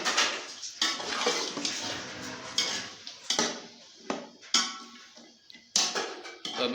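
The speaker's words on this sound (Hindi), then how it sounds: "तो अभी मैं इनको थोड़ा सा भून लूँ" Peas and carrots frying in a pot for vegetable pulao, with repeated clanks and scrapes of a metal spoon against the pot over a soft sizzle, no talking.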